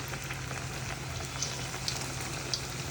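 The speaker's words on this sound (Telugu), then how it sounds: "బాగా కాగినటువంటి ఆయిల్లో వేసుకోవాలి" Thin pressed rice crackers (chekkalu) frying in hot oil, giving a steady, soft, continuous sizzle with a few faint pops and crackles, heard alone at a moderate distance.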